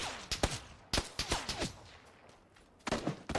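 Gunfire in the PUBG video game, several sharp, close shots in irregular clusters with short pauses between bursts, then a final pair of cracks near the end.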